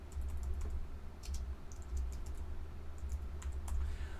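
Name being typed on a computer keyboard: soft key clicks in short bursts over a steady low hum, close and moderately quiet, with no speech.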